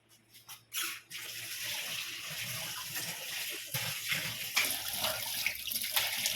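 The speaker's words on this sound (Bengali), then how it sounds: "মুখটা ধুয়ে নিচ্ছি।" Tap water runs steadily into a sink while someone washes their face, with a few splashes and knocks at the start, then a continuous gushing flow that grows slightly louder toward the end.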